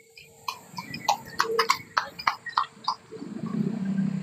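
A horse's hooves clip-clop in a quick irregular series, fairly close, at Navotas pier, before low rumbling background noise takes over.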